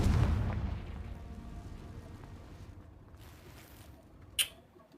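Confringo fire spell blast in the Hogwarts Legacy video game: a booming burst at the start that fades into a rumbling tail, followed by a short sharp pop near the end.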